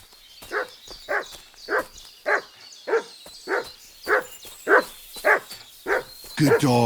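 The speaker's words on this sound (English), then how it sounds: "Good dog, Mutt." Dog barking in the medieval video game Kingdom Come Deliverance 2: about a dozen evenly spaced, fairly close barks in a steady rhythm, followed by a brief burst of other game sound at the end.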